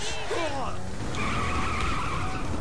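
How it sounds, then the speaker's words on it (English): A car drifts in a driving video game, its tires squealing steadily over a loud engine roar for a couple of seconds, close and continuous, with a brief voice at the start. "I just had the best drift ever"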